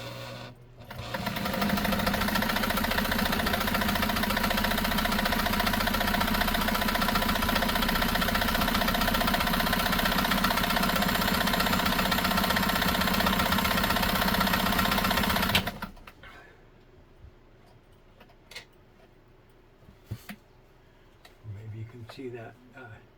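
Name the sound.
Nesco de Luxe zigzag sewing machine sewing stitches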